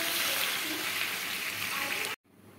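Water poured into a pan of chicken curry with potatoes, where the tomato masala has cooked down and oil has separated; a steady, loud rushing splash that stops abruptly.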